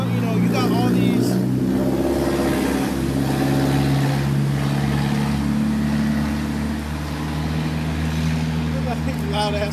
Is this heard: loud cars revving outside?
yes